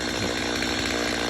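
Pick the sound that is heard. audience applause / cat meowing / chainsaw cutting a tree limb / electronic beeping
chainsaw cutting a tree limb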